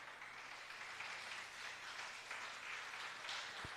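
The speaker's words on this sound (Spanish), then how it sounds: "Los mexicanos, aplauden." Audience applause, a faint, distant, even spread of clapping from a crowd, steady throughout with a single short thump near the end.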